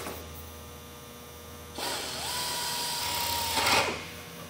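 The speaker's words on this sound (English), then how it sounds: "I can continue moving my way around drilling all eight holes" A low electrical hum gives way to a power drill whirring into aircraft sheet metal for about two seconds, its pitch rising briefly before it stops.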